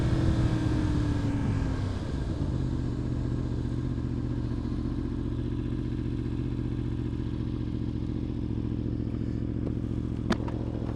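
A flashed Yamaha R1M motorcycle engine hums steadily while riding on city streets, its pitch dropping early as the rider eases off, then settling into an even close drone with wind noise.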